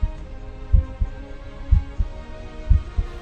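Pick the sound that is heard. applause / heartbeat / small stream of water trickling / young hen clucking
heartbeat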